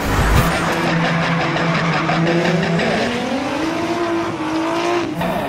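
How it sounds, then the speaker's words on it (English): Sustained tire squeal from a car drifting in Gran Turismo 5 Prologue, a loud whining screech that bends upward in pitch over a steady engine roar, continuous for several seconds with no talking. "I'm going to show you how to drift in Gran Turismo."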